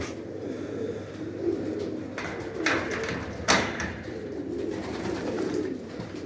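Pigeons coo softly and repeatedly inside a loft, a close, low murmuring that continues throughout, broken by a few brief knocks or flaps.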